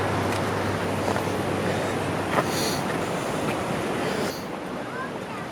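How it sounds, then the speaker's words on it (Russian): Steady, full roar of the famous Lower Falls waterfall in Wyoming, a dense rushing wash of water heard alone without pause, easing slightly in loudness near the end. "На видео и на фотографии те самые знаменитые нижние водопады."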